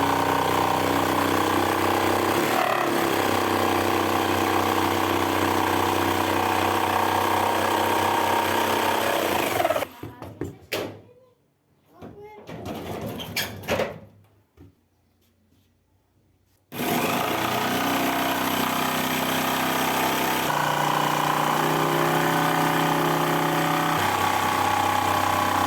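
A jigsaw cuts through wood pieces for a kitchen cabinet, a loud steady buzzing that runs for about ten seconds, stops for several seconds of near silence with a few faint clicks, then resumes just as loud.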